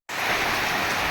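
Steady, dense rain falling near a village within sight of Mount Girnar, a loud, even hiss that starts abruptly and holds without a break.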